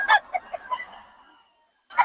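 Gamecock roosters and chickens for sale give a few short, close clucks in quick succession, a pause, then one more cluck at the end, with no talk.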